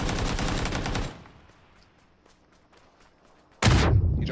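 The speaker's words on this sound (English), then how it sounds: "He dropped a grenade." In the game PUBG, a loud burst of gunfire opens, fades to near silence with faint distant pops, then a sudden heavy grenade explosion blasts close and loud at the end.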